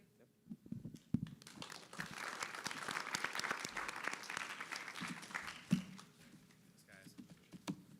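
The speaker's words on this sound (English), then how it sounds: "All right, another huge round of applause for all of the students that have participated today." Audience at a university student pitch competition breaks into sustained applause that swells for several seconds then tapers off, with brief talking at the start and end.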